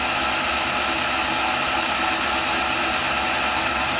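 Makita cordless drill running continuously on a battery test rig, a constant loud motor whine and broadband hum with no change in level.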